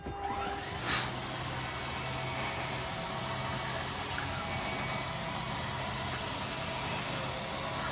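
Motorized drop-down bunk bed lowering inside a Thor Axis 24.1 motorhome, a steady low electric motor hum running continuously after a brief click, fairly quiet and close.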